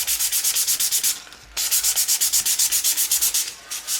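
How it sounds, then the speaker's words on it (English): Rhythmic sanding strokes on the bottom side of a propeller, a steady back-and-forth rasping close by, briefly pausing midway before resuming at the same brisk pace. "I'm going to go ahead and start sanding"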